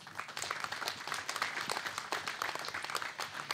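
A studio audience at a Dutch political café program applauds a nominee. The clapping is continuous and dense but quite faint and distant, with no voices over it.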